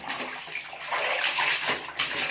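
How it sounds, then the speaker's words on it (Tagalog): Laundry being rinsed by hand in a basin of water on the fourth rinse, a steady, close sloshing and splashing that fills the whole stretch without pause. "nasa pang-4 na banlaw na tayo."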